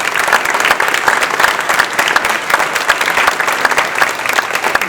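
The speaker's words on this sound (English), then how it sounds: "And one more big round of applause for the folks that are here." Loud, sustained audience applause fills a city council district primary election forum, dense steady clapping from a crowd lasting throughout without a break.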